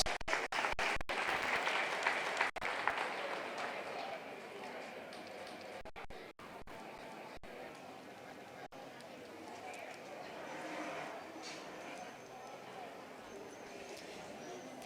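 A crowd applauds a champion steer in a county fair beef show ring, a sustained burst of clapping that gradually thins while an announcer talks over it.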